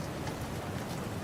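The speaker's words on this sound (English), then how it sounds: "All that was left was the sound of the raindrops clicking against the window." Steady rain patters and clicks against a window glass, a dense, even hiss of drops with no voices, filling the moment in a horror story animation.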